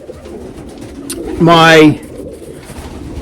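Miler racing pigeons cooing in a loft, a single clear rolling coo close by, rising and falling for about half a second over faint background rustle and a brief spoken word.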